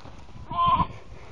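A lamb separated from its flock bleats once, a short wavering cry lasting under half a second, close and clear in a quiet Irish countryside field.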